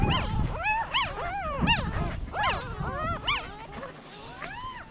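Day-old, very small newborn puppies whimper and yip in rapid, rising and falling squeals, several overlapping in quick succession at close range.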